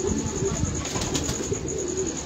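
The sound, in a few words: pigeon cooing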